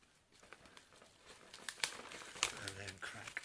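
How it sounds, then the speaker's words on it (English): Cellophane wrapping crinkles and tears as it is pulled off a Bolt Action Blitzkrieg starter set box, close and fairly quiet crackling that grows busier toward the end, with a voice murmuring near the end. "As you can see, the cellophane is still on. So let's open this up"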